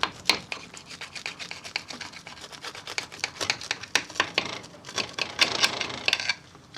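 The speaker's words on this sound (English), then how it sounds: "I'm using a serrated knife." A serrated knife saws through a still-warm Christmas stuffing cake made with onion, giving a dry, rasping scrape in quick repeated strokes, close and fairly quiet with no talking.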